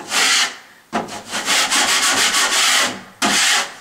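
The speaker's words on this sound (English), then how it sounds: "take this guy here and just scrape it off where it's rough" Rough, gritty scraping strokes of a knife across rough dried drywall mud, in several long passes separated by short pauses, close and loud.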